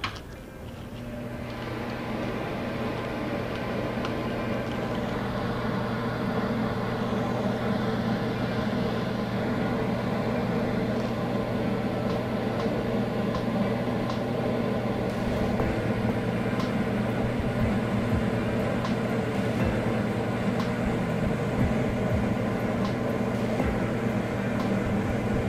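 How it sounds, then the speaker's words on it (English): An electric fan runs with a steady, continuous mechanical hum and whir over a burning sawdust and wood chip fire, loud and close, holding even throughout with no talking. "Let me turn on the fan, too."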